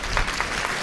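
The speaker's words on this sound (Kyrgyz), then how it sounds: "Бир кол чаап коелу." Brief burst of audience applause in a studio, a dense patter of clapping hands heard alone for under a second.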